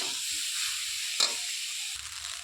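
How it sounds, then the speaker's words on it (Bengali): Fried rice is stirred in a hot pan with a soft, steady sizzling hiss and a single brief scrape of the utensil partway through, close and moderately quiet. "এবার ভাতটাকে নেড়ে ভালো করে ওগুলো ভাতের সাথে মিশিয়ে নেব।"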